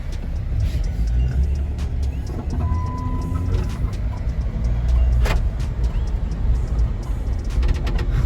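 A lifted Jeep Wrangler cruises along the road, its steady engine drone and tyre rumble filling the cabin at a constant level, with a few faint clicks and rattles over the top.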